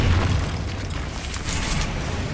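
A Confringo fire-blast spell explodes in Hogwarts Legacy, a loud, deep boom with a rumbling burst that rolls on through the whole moment, heard alone without any voices.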